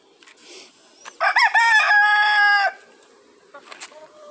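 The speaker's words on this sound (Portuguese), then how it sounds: "Eu tava gravando o galo aqui" A farm rooster gives one loud, close crow lasting over a second, with faint clucks and rustling before and after.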